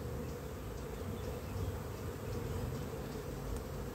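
Honeybees hum around an open hive during a queen introduction, a steady, dense, low buzz that stays even and close with no voices.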